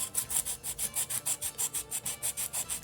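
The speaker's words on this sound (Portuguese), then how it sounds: "Usando uma lixa de unha, é das maneiras de fazer. E vamos lixando aqui" A nail file rasps rhythmically over a crocheted Christmas ball, about a dozen quick, even back-and-forth strokes, soft and close with no talking.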